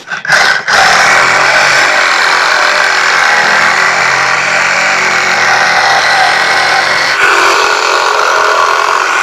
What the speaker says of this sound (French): moi j'utilise donc une scie sabre